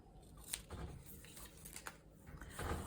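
Scissors snipping through paper strips while making handmade washi tape at a craft table, a few quiet, irregular cuts close by with soft paper rustle between them.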